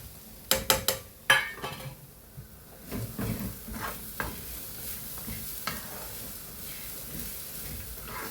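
Grated coconut dropped into a hot pan with turmeric for Kerala fish curry, opening with several sharp clanks, then soft sizzling and intermittent stirring scrapes, fairly quiet and close.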